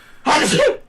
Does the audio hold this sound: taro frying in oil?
no